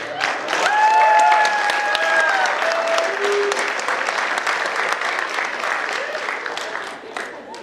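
A large audience gives a standing ovation for a guest at a celebrity roast at the M2X 2015 event, with sustained loud clapping and cheers that slowly taper off.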